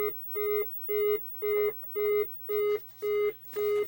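A Centipede arcade PCB under repair sounds its self-test as eight evenly spaced, identical high electronic beeps, each about a third of a second long, with a faint steady hum underneath.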